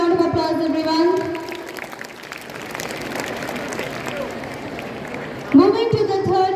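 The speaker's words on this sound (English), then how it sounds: "Please give him a big round of applause, everyone." An audience claps at a school Christmas celebration prize announcement, a steady wash of applause in the middle between stretches of a speaker's amplified voice at the start and end.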